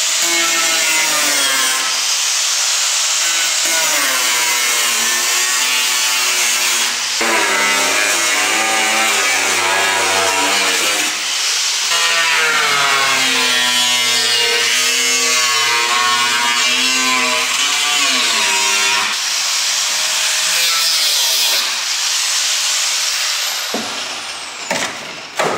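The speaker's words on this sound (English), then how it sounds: "We're cutting the floor out of the Porsche." Loud, continuous cutting of a Porsche 356's steel floor panel during a barn-find restoration, a harsh grinding whine with shifting pitch that runs for about 25 seconds and cuts off near the end.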